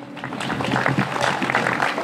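An audience applauds a singer at a live show, a dense, steady patter of clapping hands filling the room at moderate loudness.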